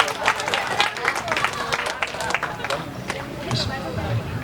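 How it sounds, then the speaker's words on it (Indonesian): Crowd applause at a touring stage performance, dense continuous clapping lasting several seconds with some voices mixed in. "Tepuk tangan dulu."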